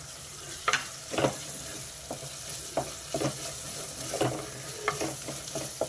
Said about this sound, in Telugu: ఇప్పుడు అల్లం వెల్లుల్లి పేస్ట్ వేస్తున్నా